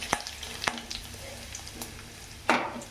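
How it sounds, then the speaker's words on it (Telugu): Cumin and mustard seeds fry in hot oil along with chana dal for a spicy egg fry, giving a steady soft sizzle broken by sharp pops and crackles and one louder stirring scrape, with no speech. "జీలకర్ర, ఆవాలు అవి బాగా ఏగనిద్దాం"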